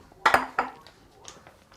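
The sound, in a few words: wok and cooking pans being handled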